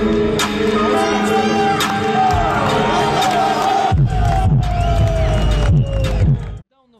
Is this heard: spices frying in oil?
no